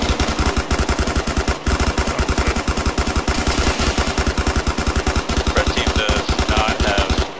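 Sustained automatic gunfire in a combat video game rattles on in rapid, evenly spaced bursts, loud and close, with a brief break near the middle before the firing resumes without pause.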